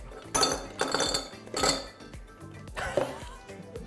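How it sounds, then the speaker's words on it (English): Ice cubes drop into a cocktail glass in four separate bursts, each one a loud clattering clink of ice on glass, with short pauses between the bursts. "So we're gonna fill our glass up with ice."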